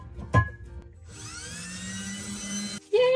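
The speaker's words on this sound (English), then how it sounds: "I need to pre-drill these holes, so I'm gonna do that real quick" A power drill pre-drills holes for hooks at home: a sharp knock, then a steady whining motor hum that rises in pitch and runs for about two seconds before stopping, followed by a brief restart.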